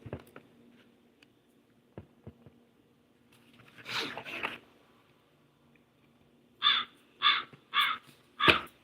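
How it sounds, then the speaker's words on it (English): Crows cawing outdoors: a softer burst of calls, then four loud, evenly spaced caws near the end, set against a faint background hum. "the crows in the air"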